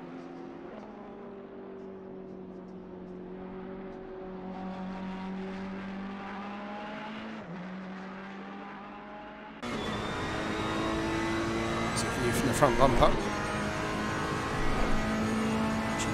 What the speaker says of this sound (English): Listen for the engine.